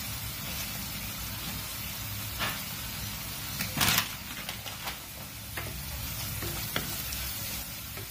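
Dried prawns frying in oil with salt for a coconut dry prawn curry, a constant close hiss of hot oil with a brief loud scrape of stirring near the middle and scattered light clinks.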